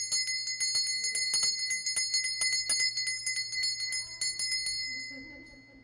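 A bright metallic bell is struck repeatedly in a rapid, ringing series, then the strikes stop and its long shimmering tone fades away, with a faint voice near the end.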